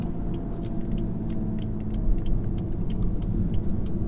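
A 2017 BMW 335d diesel saloon in Sports Plus mode pulls hard along a B road, its low engine rumble and road drone steady and close, with faint ticking noises scattered over the top.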